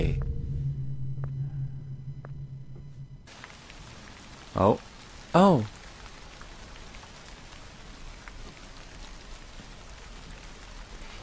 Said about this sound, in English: It really did start raining.